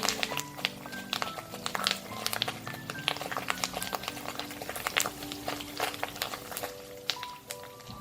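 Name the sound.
tofu and curry leaves frying in oil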